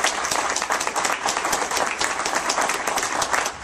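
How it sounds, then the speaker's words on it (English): Dense audience applause fills the hall at a talk on gun laws, steady clapping from a large crowd throughout with no speech over it. "So ladies and gentlemen, please, a big round of applause for Rick Ector."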